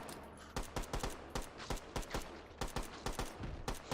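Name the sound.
gunfire in a video game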